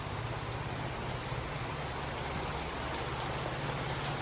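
Heavy monsoon rain pours down in a dense, unbroken roar of drops striking surfaces nearby, steady and loud with no pauses.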